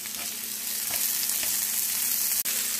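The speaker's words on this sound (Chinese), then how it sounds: "现在我们把这个玉米粒和那个鹰嘴豆炒得有点泛黄了" Corn kernels and chickpeas sizzle as they are stir-fried for vegetable fried rice, a steady close frying hiss with faint stirring running throughout, broken only by a brief gap near the end.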